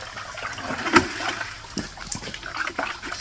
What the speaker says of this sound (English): Splash some water up.